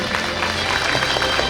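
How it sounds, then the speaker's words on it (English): A convocation audience applauds degree holders, giving a continuous, even wash of clapping with a faint crowd murmur beneath it, steady in level throughout. "let us have a huge round of applause for all the degree holders present here today"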